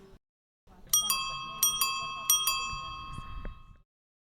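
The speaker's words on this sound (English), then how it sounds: "ding my bell at everybody" A pedicab's bicycle bell rings several times in quick dings, bright and close, with a faint rattle and low rustling underneath.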